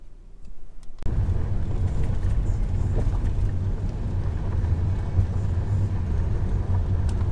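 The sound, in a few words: car driving down the road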